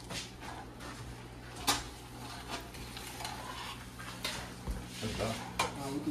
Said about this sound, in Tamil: மிக்ஸிங் அடிப்போம், மிக்ஸிங் அடிப்போம்.